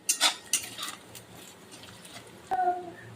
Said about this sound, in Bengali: এরকম নাড়াচাড়া করে এটা ভাজতে হবে তবে বেশি একটা কালো ভাজবো না হালকাই ভাজবো